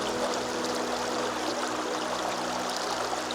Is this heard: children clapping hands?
no